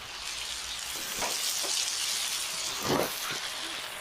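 Bacon frying gives a dense, crackling sizzle that holds steady, with a few louder bursts of spattering popping through it. It is fairly close and heard alone, with no talking.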